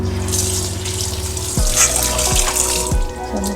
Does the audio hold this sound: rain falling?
no